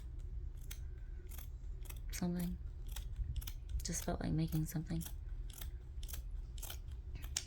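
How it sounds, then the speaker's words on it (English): Repeated crisp snips of scissors slicing through fabric, close up, with a person speaking softly between the cuts. "I'm liking the sound of these scissors cutting the fabric."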